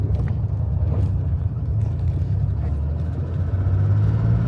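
A DeLorean with brake issues drives along a road, its engine giving a steady low rumble from inside the car, continuous and moderately loud with slight variations in pitch.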